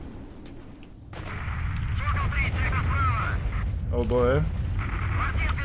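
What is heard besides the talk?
blowout emission event rumbling in STALKER: Shadow of Chernobyl video game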